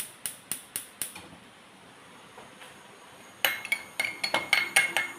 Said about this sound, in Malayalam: കുക്കറിലോട്ട് സ്റ്റീം ചെയ്യാൻ വയ്ക്കുന്നു.